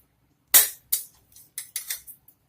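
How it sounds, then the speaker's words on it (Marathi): Mustard seeds popping in a spoonful of hot oil for tempering, with a series of sharp, irregular crackles, the first loudest, then several smaller pops, close and alone with no talk. "आधी आपण मोहरी टाकू फोडणीला"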